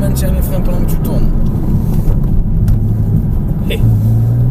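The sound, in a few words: Porsche Cayman S engine accelerating on a track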